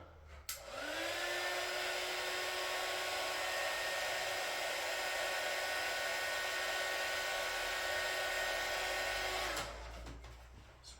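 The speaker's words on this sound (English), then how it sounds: "I do have a heat gun." A heat gun blows steadily for about nine seconds with a whirring, airy roar and a rising whine at start-up, then cuts off, used while wiring a model train set.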